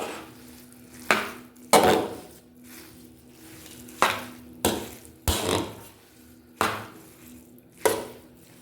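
A spatula tosses and scrapes fried rice around a pan. Several distinct clanks and scrapes come at irregular intervals over a low background sizzle, close and clear.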